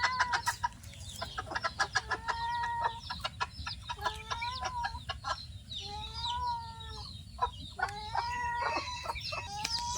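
Chickens cluck repeatedly in a rural household setting, with short bursts and rising calls scattered throughout, fairly close, over a low background rumble.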